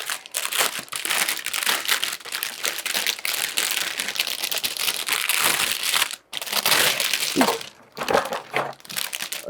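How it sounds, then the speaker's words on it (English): A plastic bag crinkles and crunches loudly and continuously up close while a Planet Unknown Deluxe Edition board game is being unboxed, with two brief pauses. "That is a very loud plastic bag."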